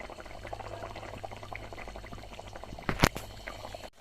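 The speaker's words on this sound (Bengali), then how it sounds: "একটু ফুটে গেলেই নামিয়ে নেব।" Bengali rui fish curry with ridge gourd simmering in a pot, a faint, steady bubbling with soft liquid crackle and one sharp clatter near the end.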